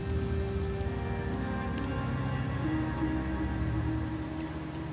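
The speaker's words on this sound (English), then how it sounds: "The rains in Septimont never seem eager to leave this season." Steady rain falling in Septimont in the Wuthering Waves video game, a constant close hiss of drops on surfaces with a low rumbling bed, holding even throughout with no voices.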